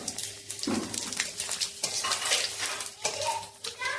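Panch phoron spices hiss and sizzle in hot oil as tilapia cooking begins, mingled with close metallic clinks of a utensil stirring in the pan, in bursts across a few seconds.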